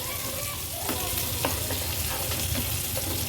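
Fish pieces fry in hot oil in a continuous dense crackling sizzle, close and steady, with a few soft clicks of a utensil in the pan.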